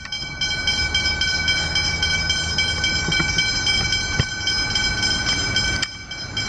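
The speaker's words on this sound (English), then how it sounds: "Pacific National freight train." A Pacific National freight train rumbles steadily past up close at a level crossing in Violet Town, Victoria, wheels clattering over the rails with a few sharp metallic clanks, no voices.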